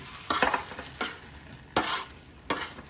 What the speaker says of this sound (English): I hear like boiling water, and there's the tomatoes.